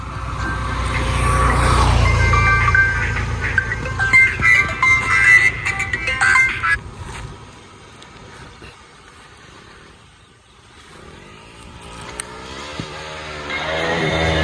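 KTM Duke 250 motorcycles start up and ride off: a loud, rough engine rumble fills the first half, then thins and fades as the bikes pull away, with faint revving returning near the end.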